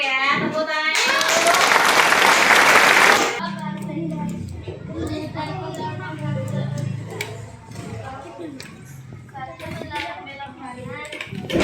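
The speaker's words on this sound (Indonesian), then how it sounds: "Betul ya, tepuk tangannya dulu." Schoolchildren in a primary class clap their hands together in a loud, dense burst of applause lasting a couple of seconds, then a teacher's voice carries on talking.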